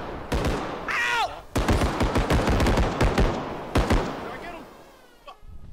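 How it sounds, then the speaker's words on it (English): Bursts of sharp gunfire, single shots and rapid volleys, crack repeatedly through a game soundscape while people talk over it. "You hear the gunshots? That's him."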